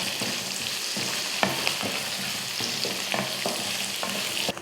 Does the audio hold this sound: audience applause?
no